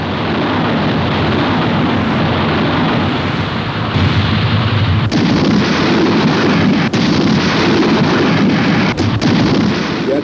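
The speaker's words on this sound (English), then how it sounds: "the Bismarck was engaged the following morning by the British fleet, being hit repeatedly by the battleships Rodney and King George V." Naval artillery fire from the battleships Rodney and King George V shelling the Bismarck, a loud continuous roar of heavy booming and rumble that swells slightly after a few seconds and holds steady throughout.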